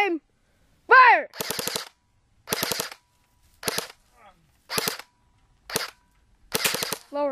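An airsoft gun fires at close range, about 20 feet, in several rapid bursts of sharp clicking shots separated by short pauses, with brief yelps of pain between bursts.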